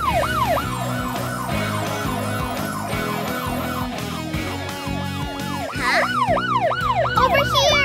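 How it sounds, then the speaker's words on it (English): A cartoon drone's siren wailing in rising and falling sweeps over background music, loud and repeating, fading briefly before returning stronger. "Listen for the drone siren."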